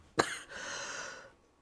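A single sharp cough from a person at a public planning inquiry, close and loud, followed by a short raspy throat-clearing exhale in an otherwise quiet room.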